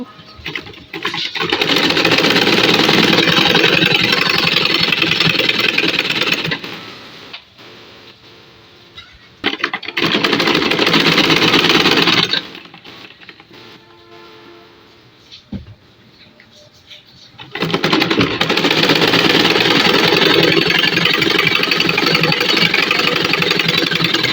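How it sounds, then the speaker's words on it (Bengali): Sewing machine stitching the leg borders of a salwar, running in three loud, steady bursts with short quiet pauses between them and no talking. "দুই পায়ের বর্ডার সেলাই করে নেব"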